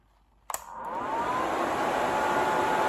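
A small budget nail drill dust extractor clicks on and spins up into a steady, fairly quiet whirring hum that continues evenly.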